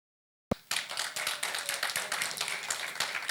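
An audience at an after-work member event breaks into sudden applause that starts sharply and keeps up as dense, steady clapping from many hands, loud and close without pause.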